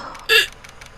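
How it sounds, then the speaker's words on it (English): A single cartoonish hiccup sound effect from the Phoenix Wright: Ace Attorney – Justice for All video game, a short sharp burst that stands out loudly over a quiet background. "Hiccups."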